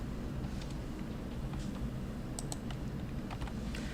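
Light clicks of keys on a computer keyboard as a shortcut is pressed, a few scattered taps over a steady low room hum, no speech.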